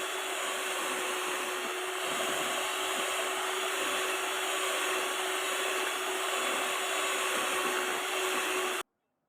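An electric hand mixer beats egg-based batter for a Bengkalis-style bolu dam (checkerboard cake), giving a steady, close, continuous motor whir with an even pitch that runs without pause, then cuts off abruptly at the end.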